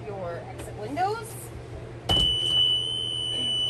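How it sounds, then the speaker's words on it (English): A school bus emergency exit buzzer sounds suddenly after a brief stretch of quiet voices and clunks, holding a steady, high electronic tone to the end with a person talking faintly under it. "the buzzer is to let you know that it's working and that you have an emergency exit open"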